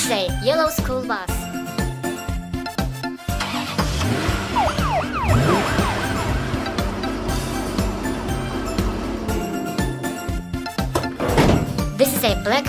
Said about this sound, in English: This is a black police car.